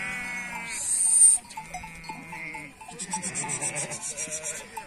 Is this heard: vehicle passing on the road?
no